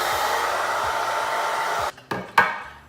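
Hair dryer blowing the top portion of thick, type 4 natural hair, a loud steady rushing whoosh that suddenly cuts out and restarts near the end.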